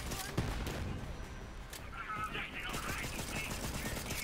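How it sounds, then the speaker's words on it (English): Rapid video-game gunfire from a Jakobs gun in Borderlands 3 crackles in dense bursts with ricochet pings, heard under a steady bed of noise and voices. "I like the Jacob's headshot noises when it ricochets bullets."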